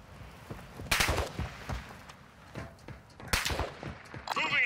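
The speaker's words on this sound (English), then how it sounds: "You are taking effective fire." Gunfire in a realistic military shooter video game: two loud sharp bursts of shots about two seconds apart, with scattered quieter distant cracks between them in a muffled battlefield ambience.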